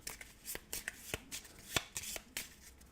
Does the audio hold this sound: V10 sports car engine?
no